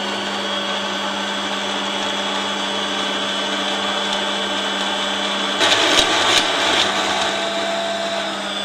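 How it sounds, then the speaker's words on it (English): A sewing machine's bobbin winder spins thread onto a bobbin, giving a steady, close motor whine and hum that runs throughout, with a brief rattle partway through and no talking. "this will wind up the bobbin. Just be sure that the thread is winding on evenly"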